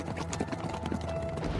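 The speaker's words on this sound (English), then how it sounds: "followed by the clatter of hooves on stones." Horse hooves clatter over stones in a fast, irregular patter of many hoofbeats, moderately loud and continuous against a low rumble.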